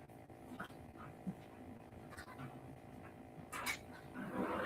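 An indoor dog whines with soft, high whimpers and some panting. The sound is faint and close, with low household background noise.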